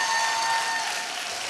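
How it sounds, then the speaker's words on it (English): An audience at a competition final applauds a finalist named Grace, a short burst of steady crowd clapping that fades slightly toward the end. "let's have a round of applause for Grace"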